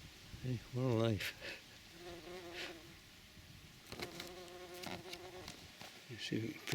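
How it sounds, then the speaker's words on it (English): Bees buzz among July garden flowers, a steady insect drone running through the clip alongside someone speaking at length. "You see if we can pick out some different bees."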